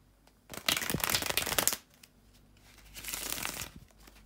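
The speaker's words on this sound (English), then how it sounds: "just bear with me a second, guys, to shuffle the tarot cards" Tarot cards being shuffled by hand, two quick riffling bursts close to the microphone separated by a short pause, otherwise quiet.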